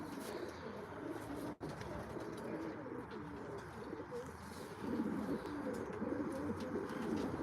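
Several pigeons in an outdoor aviary with a bathing pool keep up a continuous, rolling coo. The soft throaty calls overlap throughout, with one brief dropout early on and slightly fuller cooing near the end.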